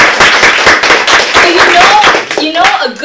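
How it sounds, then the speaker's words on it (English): Audience at a Toastmasters club meeting clapping in sustained, dense applause for about three seconds, loud and close, with a voice rising near the end. "So can we give her a round of applause?"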